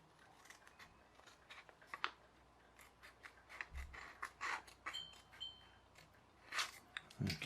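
Scissors snipping through paper while shaping a paper aeroplane, a string of short crisp cuts and soft rubbing rustles close by, irregular in rhythm, quiet and without voices.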